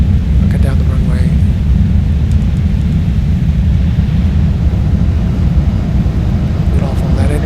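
Simulated Cessna 172 G1000 touching down and rolling out on a runway in X-Plane 12, a steady loud low rumble of engine and wheels throughout, with a voice talking over it.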